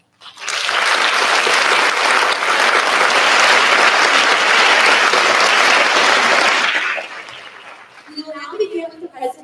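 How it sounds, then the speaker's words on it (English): Graduation ceremony audience bursts into loud sustained applause for about six seconds, then the clapping fades out and scattered voices and light chatter follow. "Please join me in recognizing them with a round of applause."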